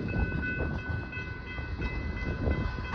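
A slowing tanker train rolls steadily past nearby, a dense low rumble under a faint sustained squeal, with soft irregular thumps from the cars and no voices.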